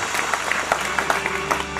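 An audience at a cow shelter (gaushala) presentation breaks into applause, a brief steady burst of many hands clapping close by.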